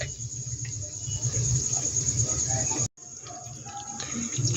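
Potato pakoras fry slowly in oil over a low flame, giving a dense, even hiss of fine bubbling that fills the clip and cuts out for a moment before resuming.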